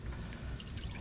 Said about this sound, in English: When I pour it in, it doesn't hold at all.